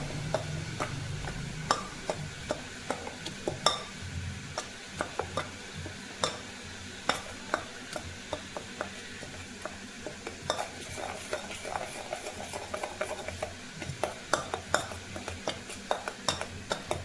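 Gram flour (besan) batter for carrot kadhi being whisked in a bowl, a run of quick, sharp scraping and clinking strokes in an uneven rhythm, close and clear with no talking.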